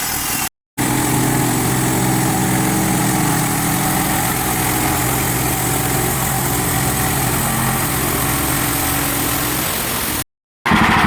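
A Hud-son Patriot sawmill runs on a small log, its engine droning loud and steady with a buzzing cutting tone throughout, interrupted only by two very short gaps near the start and end.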